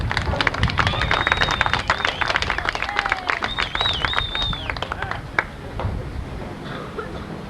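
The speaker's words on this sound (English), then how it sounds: "Let's give him a round of applause" A crowd at a 1988 water ski event applauds a national slalom champion, steady clapping filling the first five seconds before thinning out, with whistles and cheers cutting above it.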